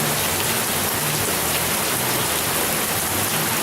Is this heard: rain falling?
yes